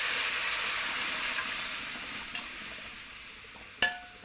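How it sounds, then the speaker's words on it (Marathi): A soft, fading sizzle of frying with faint scraping as mutton is stirred into masala in a pan over low gas, ending in a sharp metallic clink. "मटण टाकायचं आता मटण मी हलवते"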